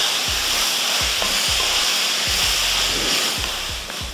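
Mint and coriander leaves sauté in a hot oiled pan for chutney, with a steady, loud, close sizzle and soft rhythmic stirring scrapes and thumps running throughout, no voices.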